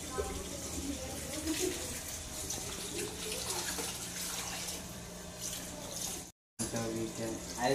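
A faucet runs in a steady, gushing stream, with people talking over it throughout and a brief dropout near the end.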